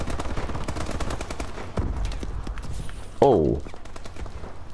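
Rapid gunfire in Call of Duty: Advanced Warfare, rattling bursts of shots up close, with a voice briefly reacting partway through.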